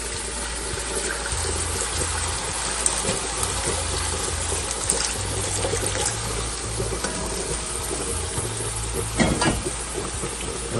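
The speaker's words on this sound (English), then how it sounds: "Now I'm gonna add a little water." Water poured into a hot pan of sautéing Jamaican brown stew fish, a steady broadband hiss and sizzle that runs continuously and loud throughout, with small bubbling crackles layered on top.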